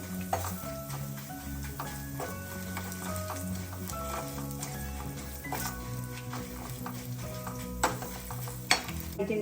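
Continuous close sizzling of urad dal frying in oil, with occasional clicks and stirring sounds and a couple of sharper pops toward the end.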